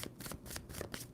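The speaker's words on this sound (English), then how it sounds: "2 more shuffles for Capricorn." A tarot card deck being shuffled at close range, giving a quick run of soft riffling and rubbing bursts over about a second, with no talking.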